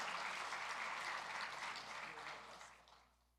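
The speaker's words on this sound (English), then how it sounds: "So a round of applause for that." An audience at a talent competition final claps warmly, loud at first and then fading away over a few seconds.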